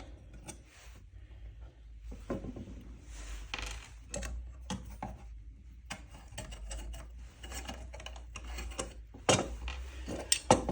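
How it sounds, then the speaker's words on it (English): Metallic ratcheting, scraping and clinking as an Allen wrench works screws loose from an M12AK rifle handguard, close and intermittent with irregular bursts and short pauses, ending in a few louder clanks. "We're going to take the smaller Allen wrench. I'm going to take these off."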